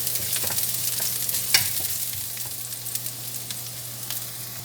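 Garlic frying in a little oil in a pan for chicken afritada gives a soft steady sizzle, with a few sharp clicks and scrapes of stirring on top and a low hum underneath.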